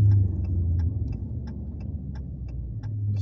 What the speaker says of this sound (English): Some big trucks coming through.